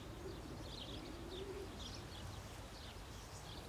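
Racing pigeons at a loft coo softly with low, rolling notes while faint chirps sound at intervals, all quiet and distant over a steady low background rumble.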